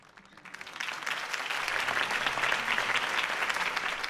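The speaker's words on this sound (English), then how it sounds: "If only Mr. Wayne, my campaign's largest backer, could have heard that applause" In the video game Batman: The Telltale Series, a crowd applauds Harvey Dent's campaign speech. The clapping swells quickly from a few hands into dense, sustained applause that stays strong to the end.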